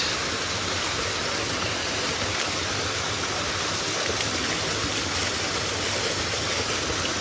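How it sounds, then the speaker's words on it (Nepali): Water gushing from a fish-shaped spout at a temple, a steady unbroken rushing splash, close and fairly loud throughout. "माछाको धारा है गाइस"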